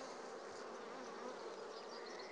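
Honey bees hum steadily around a hive frame during queen-rearing preparation, a dense, continuous close-up buzz with no pauses and no talking.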